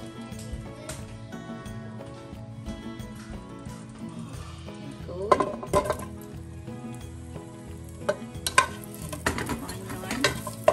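Onion and garlic sizzle in hot olive oil as a beef sinigang base is started, with a spoon scraping and clinking against the pan in several sharp strokes over the steady frying hiss.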